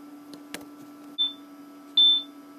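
A Portal turret toy gives two short electronic beeps about a second apart, each a clean high-pitched tone over a low steady hum, with a faint click before them.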